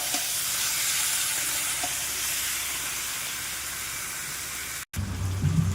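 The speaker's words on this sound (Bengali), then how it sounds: "এবার ভালো করে নেড়ে চেড়ে দিয়ে দেবো মাংসটা" Meat frying and being stirred in a pan with salt gives a steady, close sizzling hiss throughout, with faint scraping, and a brief cut near the end before a lower rumble.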